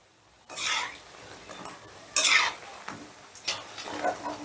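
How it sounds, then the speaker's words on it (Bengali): Pakoras turned in hot frying oil with a utensil, giving scraping, clattering stirs and bursts of sizzle at close range, in a few separate strokes over a steady low frying hiss. "এবারে আমি উল্টে পাল্টে লাল লাল করে ভালো করে ভেজে নেব"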